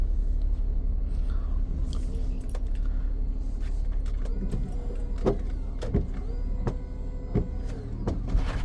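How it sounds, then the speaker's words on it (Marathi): A car pulls away during a Ganpati immersion outing, a steady low engine rumble running throughout, broken by scattered clicks and knocks of doors or loose parts close by, with no talking. "बघा एक गाडी निघाली आहे"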